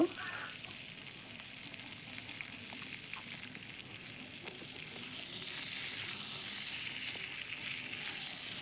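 Small pieces of food fry in hot oil with a soft, even bubbling sizzle that swells slightly toward the end, heard faintly and without voices.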